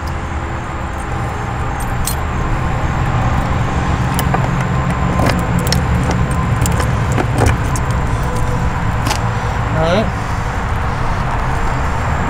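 Metal keys jangle and clink in quick scattered bursts as a motorcycle bag is opened on a 2001 Kawasaki Vulcan Nomad 1500, set against a steady low background hum.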